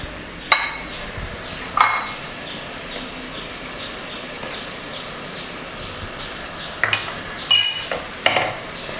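Onions with salt being sautéed and stirred in a pan for a Kerala-style beef curry, with a steady low sizzle and several sharp metallic clinks of a spatula against the pan. No voices.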